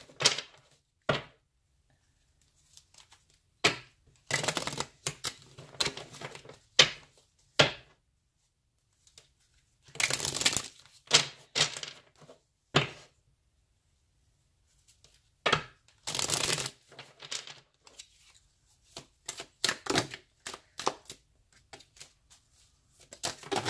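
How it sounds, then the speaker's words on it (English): Tarot cards being shuffled in repeated bursts, crisp riffling and slapping sounds close up, separated by short quiet pauses. "I did shuffle a little bit, but I'm going to shuffle some more."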